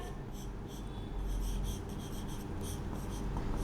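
Steady rubbing and scratching of marker on a classroom board as an exam definition about rancidity is written out, continuous soft strokes with no voices.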